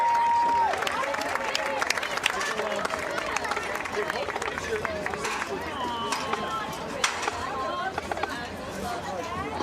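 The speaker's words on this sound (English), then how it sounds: "give one last round of applause" A football game crowd claps in sustained applause for a high school marching band, with scattered cheers and chatter, loud and continuous throughout.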